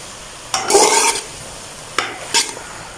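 Cooked macaroni stirred in a pan, a few scraping, sizzling sweeps of a spoon close up, one long stir followed by two short ones, with no talking.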